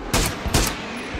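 Two sharp, loud gunshots from PUBG, close together and close up, with the second followed by a softer thump as the echo fades.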